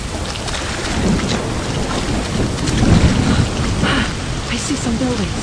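Rainy thunderstorm in a Tomb Raider game level, continuous rain hiss with low rumbling and water sloshing, faint indistinct voice-like sounds in the mix.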